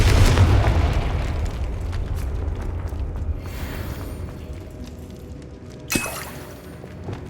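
A Confringo spell explodes in Hogwarts Legacy with a loud booming blast that rumbles and fades, followed by a quieter sharp pop a few seconds later.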